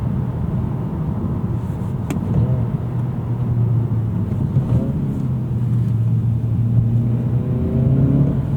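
An Acura Integra drives along a road at moderate pace, its engine a steady close hum with gentle rises in pitch as the throttle changes, plus road rumble throughout.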